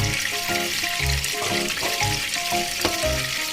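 Chilies, shallots and garlic are roasted in a pan with a splash of water, producing a steady close hiss and sizzle with rhythmic scraping stirs every half second or so.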